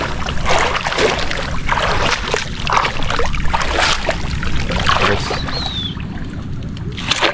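A small boat moves on water, with steady splashing and sloshing beneath a busy outdoor mix, and people talk briefly over the noise.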